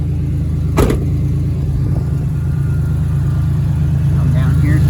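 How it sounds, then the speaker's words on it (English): A Ford Ranger 3.0L V6 idles steadily with a low, even engine hum throughout, close by, with a brief knock or thump near the start. "So I'm just gonna let this idle here for a little bit."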